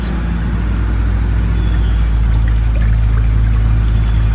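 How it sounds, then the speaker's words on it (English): Steady trickling and pouring of a water feature running in the woods, continuous and close, with a low rumbling hum beneath it. "with the water feature noise"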